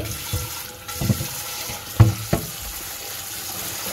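A frying pan is washed in a kitchen sink under a running tap: steady water rush with a few soft clanks and knocks of the pan, close and fairly quiet.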